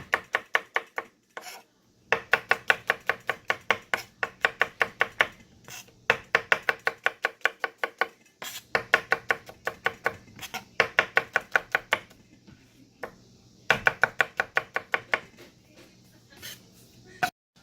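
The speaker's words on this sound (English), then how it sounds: "Now we're going to begin to just cut our tomatoes up." A knife chops heirloom tomatoes on a cutting board in quick, evenly spaced bursts of sharp taps, close and clear, separated by short pauses.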